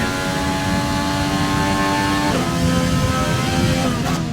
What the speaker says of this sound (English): I think the Renault engine has the best sound in the game.